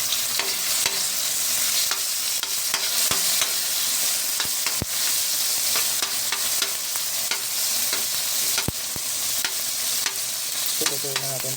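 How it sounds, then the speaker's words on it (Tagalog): Tomatoes sautéing in a pan with string beans and small shrimp nearby, a continuous loud sizzle with frequent sharp clicks and scrapes of a stirring utensil, close and with no talking. "Gigisa lang tayo mga lods."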